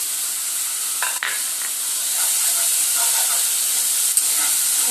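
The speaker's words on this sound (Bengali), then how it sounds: "মশলাটা দিয়ে কিন্তু তেল ছাড়তে শুরু করেছে দিয়ে দেবো দু চামচ টক দই" Masala frying in released oil as two spoons of sour yogurt go in, giving a loud, continuous hissing sizzle with a quick spoon clink and scrape near the start and another late, close with no talking.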